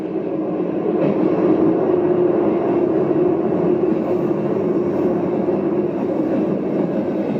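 A train approaching on railway tracks rumbles steadily nearby, a continuous heavy roar of wheels on rails that holds throughout without pause.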